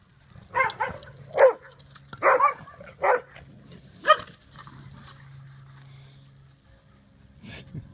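A puppy yelps and whimpers in a series of short, high bursts, pausing between them, fairly close by with a faint low hum behind.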